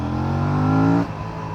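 An Aprilia RS 457 motorcycle engine revs hard under acceleration in second gear, a loud steady harmonic drone that climbs in pitch for about a second, then drops away sharply as the throttle closes.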